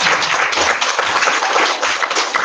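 Audience applause at a university conference session, dense and steady clapping filling the room at close range for the whole stretch, with no speech over it.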